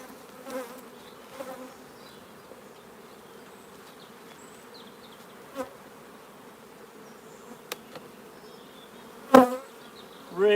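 Honey bees buzz steadily around hive frames during a nucleus colony transfer, a continuous close drone with occasional louder passes and faint clicks.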